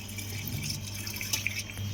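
Water drains steadily out of a Samsung top-load washing machine through its drain pipe. The flow makes a continuous rushing sound over a low hum, with occasional drips and splashes.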